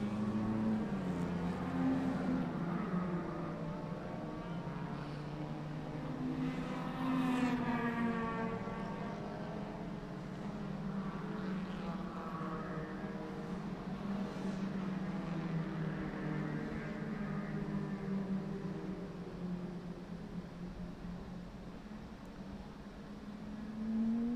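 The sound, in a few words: Renault Clio and Mazda MX-5 race cars driving past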